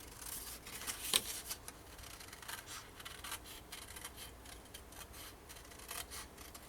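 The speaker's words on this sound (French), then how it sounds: "Puis, je vais couper le long." Scissors cut along a marked line through paper for a scrapbook page, quiet, close snips and rustling scrapes with one sharper click early on.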